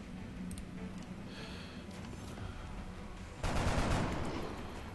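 A burst of gunfire from a pot shot in the XCOM: Enemy Unknown video game erupts suddenly after a quiet stretch, loud and sustained, with a rough tail that fades away.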